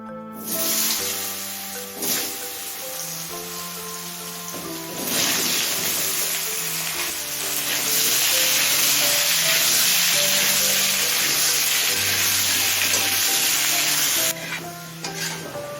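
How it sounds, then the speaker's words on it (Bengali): Potatoes frying in hot oil left over from frying katla fish heads, a loud continuous crackling sizzle with occasional stirring and pan scrapes, close up and with no talking. "মাছের মাথা ভেজে তুলে নেওয়ার পর এই তেলেই আলুটা ভেজে নেব"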